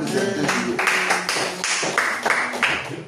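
A church congregation claps and cheers in praise, a dense burst of hands with voices mixed in, fairly close and loud, rising and falling in waves for a few seconds.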